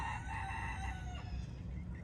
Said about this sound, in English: Thank you for crowing right in my ear.